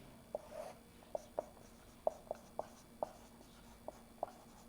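Pen or marker tapping and scratching across a surface while an equation is written out for a 9th-grade math exercise, a string of sharp, close clicks and short strokes at an uneven rhythm, with no talk.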